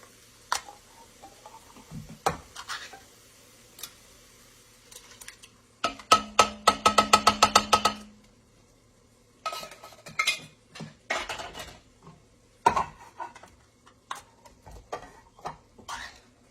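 Utensils clink and scrape against a pot as two 14.5-ounce cans of fire-roasted diced tomatoes go in for an Italian sausage bake, with a rapid burst of metallic taps in the middle and scattered clatters around it, fairly faint.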